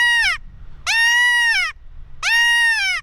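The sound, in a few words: predator call imitating distressed fawn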